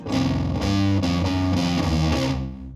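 Heavily distorted electric guitar chords through a distortion effect pedal ring out loud and gritty, a few strummed chords in a row before the sound cuts off.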